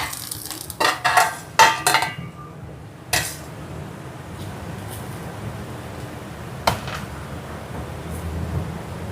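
Metal utensil clanks and scrapes against a paniyaram pan in a quick cluster, then one more knock, over a steady low sizzle of paniyaram frying in a little oil after being turned.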